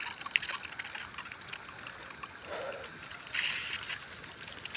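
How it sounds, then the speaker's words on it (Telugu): Irrigation water gushes and trickles steadily into a tomato field, a continuous faint outdoor wash that swells slightly near the end. "ఈరోజు టమాటో తోటకు నీళ్ళు కట్టడానికి అయితే వచ్చాను."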